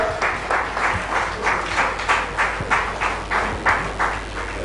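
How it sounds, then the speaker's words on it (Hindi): A crowd at an award ceremony, the Smart City Conclave in Bhopal in 2015, claps to welcome the award winners. The clapping comes in loud, rhythmic bursts about twice a second, close and sustained. "एक बार जोरदार तालियों के साथ स्वागत किया जाए सभी अवार्ड विनर्स का"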